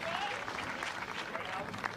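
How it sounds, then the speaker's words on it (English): A Little League World Series crowd, Illinois against Wisconsin, gives a pitcher a round of applause; the clapping sounds distant and steady beneath a broadcast commentator's voice. "Gets a nice round of applause."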